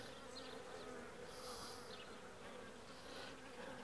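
A dense, steady insect buzz of many honeybees, continuous and close, with no talking.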